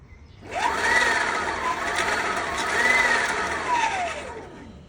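Custom mid-drive e-bike motor on a VESC controller whining under throttle, alone and fairly loud, its pitch climbing, easing back, rising again and then winding down.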